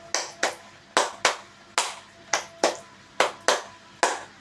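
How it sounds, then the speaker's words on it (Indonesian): Hands clap sharply in a counted pattern, about a dozen crisp claps in uneven pairs and groups, loud and close with no talking. "Tepuk 5 2 kali."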